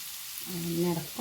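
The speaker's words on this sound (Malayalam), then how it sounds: "വറുത്തെടുത്ത് വെച്ച് ചെമ്മീൻ ഇട്ട് കൊടുക്കാം കേട്ടോ" Fried prawns go into a hot pan with amaranth stems for a stir-fry, a soft steady sizzle running throughout, with a voice speaking over it partway through.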